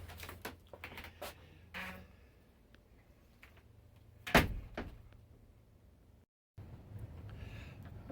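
A greenhouse door on a homestead opens with a sharp latch click and a rattling scrape, preceded by a few scattered knocks and followed by quiet room tone.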